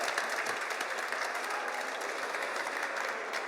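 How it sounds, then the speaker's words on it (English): A round of applause from a podcast audience, a steady, even wash of clapping that holds at a moderate level for a few seconds with no voices over it. "yeah, round of applause."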